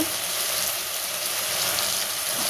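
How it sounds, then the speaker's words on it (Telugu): Cut brinjal and potato pieces frying in hot oil, giving a dense, steady sizzle that stays loud and unbroken throughout, close up with no talking. "తర్వాత కట్ చేసుకున్న వంకాయలు, ఆలుగడ్డ వేసి కొంచెం వేగేదాకా ఉంచి కలుపుకోవాలి."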